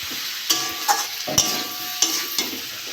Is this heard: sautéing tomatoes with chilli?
yes